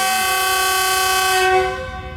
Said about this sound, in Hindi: और सेकंड डिपार्चर विसल के साथ ट्रेन हमारी अब डिपार्ट करने लगी है जी गुजरात रेलवे स्टेशन से।